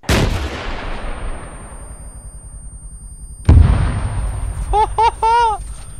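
A launcher fired at a tower in the Arma 3 video game: a loud opening blast rolling off for several seconds, then a second heavy boom, with voices speaking briefly afterward.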